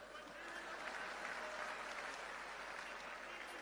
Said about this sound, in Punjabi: ਤਾੜੀਆਂ ਹੀ ਮਾਰ ਦੋ ਬਸ ਹੁਣ ਤਾਂ